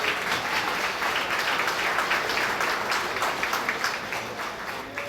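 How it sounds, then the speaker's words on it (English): Audience at a fundraising gala clapping steadily, a room full of applause that holds even and then eases slightly at the close. "Give a round of applause."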